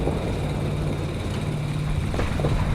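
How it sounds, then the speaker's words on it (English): A helicopter in the video game Delta Force hovers nearby, a steady low rotor rumble and engine drone filling the whole stretch at moderate loudness with no talk. "Ooh, helicopter."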